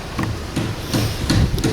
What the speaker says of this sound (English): Excuse the noise, my neighbors are building a new house